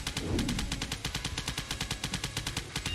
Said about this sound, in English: This is a powerful machine gun.